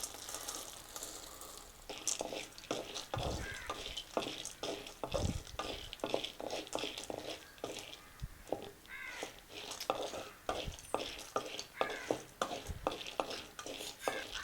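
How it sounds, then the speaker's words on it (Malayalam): Dry-roasted peanuts stirred in a pan while making peanut chutney, with repeated scraping and rattling strokes of a spoon against the pan, close and busy throughout with irregular rhythm. "ഇതിലേക്ക് എണ്ണ ചേർക്കാതെ വറുത്ത് വെച്ചിരിക്കുന്ന നിലക്കടല ചേർത്ത് കൊടുക്കാം."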